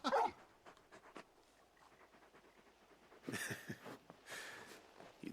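A large dog companion in the video game Final Fantasy XVI pants in quick rhythmic breaths, quiet and close, with a louder burst of panting and snuffling near the end.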